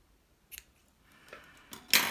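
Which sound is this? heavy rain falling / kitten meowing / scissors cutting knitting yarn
scissors cutting knitting yarn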